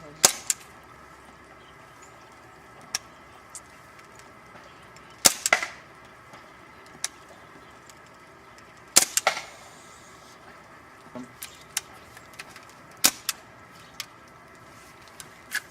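A Well G196 Mauser C96 CO2 airsoft pistol fires BBs in sharp, dry snaps, spaced irregularly with a few quick doubles, each crack close and crisp against a quiet room.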